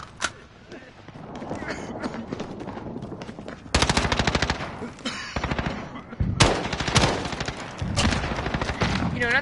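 Grau 556 rifle fire in Call of Duty Modern Warfare comes in rapid automatic bursts, loud and sharp, with gaps between volleys and a voice talking underneath.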